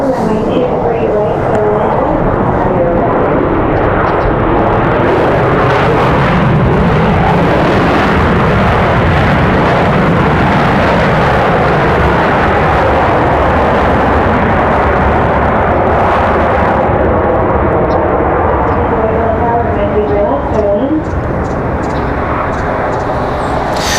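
An airliner touches down at Raleigh Durham airport in a westerly crosswind, a loud, steady broadband jet roar that fills the whole stretch and holds near and heavy, with a faint voice mixed in.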